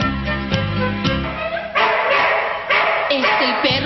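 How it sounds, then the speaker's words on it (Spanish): A dog barks and yips in a children's singing video, with several short sharp barks at the start followed by sung or spoken voices over the remaining seconds. "Escuchemos al perro de Don Belisario, que está ladrándole al comisario."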